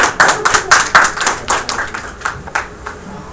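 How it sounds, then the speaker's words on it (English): A small group claps for a few seconds at a club meeting, the claps close and uneven, fading out toward the end. "let's give a big round of applause"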